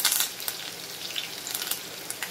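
Crushed garlic, green chili and curry leaves crackle and spatter in hot oil, giving a steady close sizzle with a few sharper pops and no voices.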